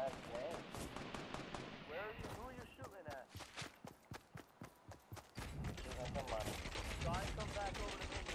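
Gunfire in a battle royale video game, rapid bursts of shots in a rhythmic string mixed with the game's other sounds, while players talk over it.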